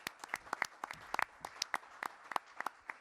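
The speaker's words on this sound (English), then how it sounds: "Let's give them all a strong round of applause as well." Scattered audience clapping at a COVID-19 briefing held by New York Governor Andrew Cuomo, a light, sparse round of individual claps from a small crowd, fairly quiet and distant.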